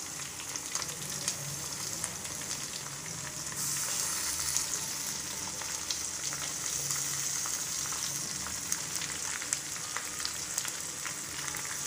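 Stuffed brinjals, packed with masala for a Rayalaseema-style gutti vankaya curry, fry in a pan with a loud, steady sizzle that swells slightly partway through and carries on without pause.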